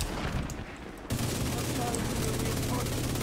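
Rapid gunfire bursts from the video game Division 2 crackle continuously through the clip, getting louder and denser after a brief lull near the start, with a player's voice talking over the shooting.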